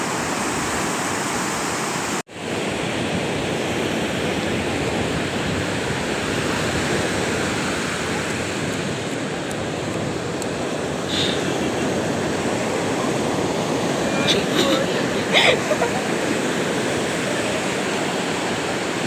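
Ocean waves break on Kozhikode beach in a continuous loud roar of surf, with brief louder splashes of breaking water near the end and a short dropout early on.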